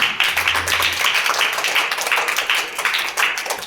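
Classroom clapping during a Hindi math lesson on unit fractions, a steady patter of hands lasting a few seconds, fairly close and even in loudness, with no talking over it.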